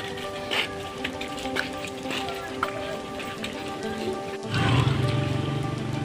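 Light drizzle falls outdoors as a soft, steady patter of raindrops, with faint clicks and noise over it and a louder wash of rain toward the end.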